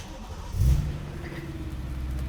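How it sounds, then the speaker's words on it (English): A BMW E90 M3 fires up after a battery replacement: a quick crank and catch followed by a steady, low engine idle, close by and with no talking. "we'll just make sure the car still starts"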